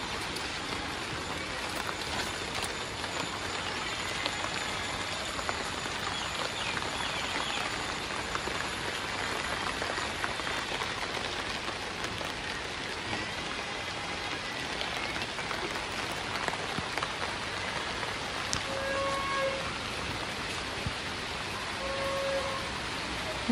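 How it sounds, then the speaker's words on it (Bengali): Light drizzling rain falls outdoors around a house and trees, a steady, even soft hiss that holds at the same level throughout, with no distinct drops standing out. "ঝিরি ঝিরি বৃষ্টি পড়ছে"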